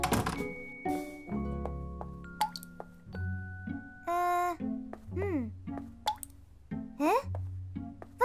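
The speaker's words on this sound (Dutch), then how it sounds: "Wat hoor ik toch druppelen?" Cartoon water drips from a tap that was not closed properly, heard as a run of separate bright plops and drips with musical tones and voice sounds between them.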